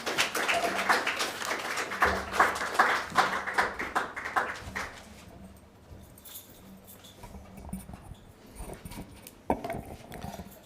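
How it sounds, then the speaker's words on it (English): Audience at an evening seminar applauds the presenter, a brisk burst of many hands clapping close and loud for several seconds that thins out and fades into quiet room noise and a few scattered sounds. "A big round of applause for our presenter tonight, Dr. Vasilis Adrahtas."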